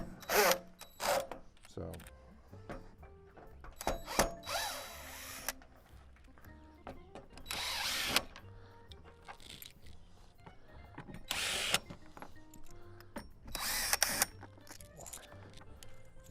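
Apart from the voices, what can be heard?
power drill removing screws from Coleman RV AC unit top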